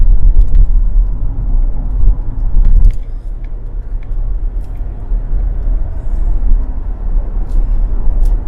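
A Range Rover L322 cruises along, giving a steady low road rumble and tyre noise from inside the cabin, fairly loud and continuous with a brief bump partway through.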